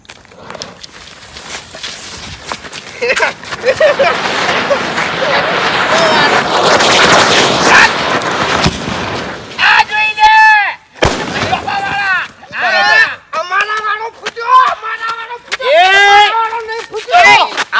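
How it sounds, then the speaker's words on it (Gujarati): Loud, dense bursts of firecracker bombs crackle and bang in rapid succession, then give way to people talking and calling out. "બોમ્બ આપણા વાળો ફૂટ્યો"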